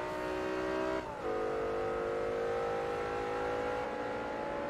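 BMW engine in Forza Motorsport 3, revving hard with a steady high whine, a brief dip near one second as it shifts, then climbing again, loud and close with no talk.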